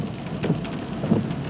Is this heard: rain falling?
yes